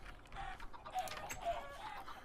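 Chickens cluck in Minecraft, a few short, faint clucks scattered over a quiet background, with no talking.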